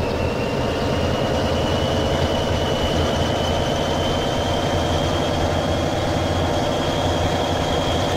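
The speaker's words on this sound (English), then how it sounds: "it seems like the engine noise kind of stops at a certain point" A MAZ 504 truck engine in Euro Truck Simulator 2 drones steadily and loudly at a constant pitch, with a thin high whine running throughout and no rise in revs.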